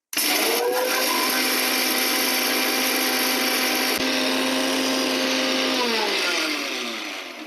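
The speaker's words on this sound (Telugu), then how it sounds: "ఇవి వేగాయి కదా వీటిని ఒక మిక్సీలో తీసుకొని మిక్సీ చేసుకుందాం" A kitchen mixer grinder whirs loudly and continuously while grinding roasted ingredients for cauliflower pickle, holding a steady motor drone before winding down at the end.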